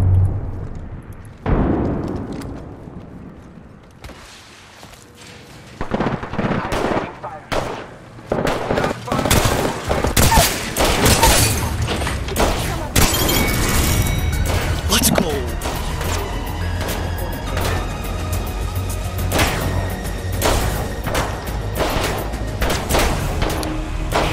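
Bursts of gunfire and rapid weapon shots in the Apex Legends battle royale game, with scattered single cracks early, then dense, loud volleys and clattering fire, mixed with game effects and a voice talking throughout.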